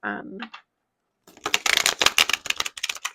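Tarot cards being shuffled by hand close up, a dense run of crisp riffling flutters and slaps after a short spoken fragment and a pause.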